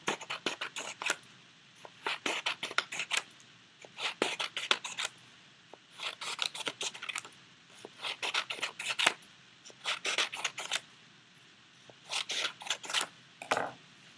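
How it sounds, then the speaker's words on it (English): Scissors snip through yellow paper strips for a collage in quick, crisp bursts of several cuts each, repeating rhythmically, close up and alone with no talking. "with my other hand I'm going to take my scissors and I'm going to cut a straight line coming up"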